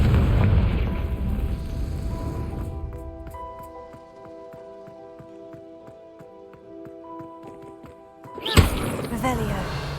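A Confringo spell in Hogwarts Legacy lands with a deep booming blast, the loudest point near the end. Busy game noise and a rising tonal effect sit around it.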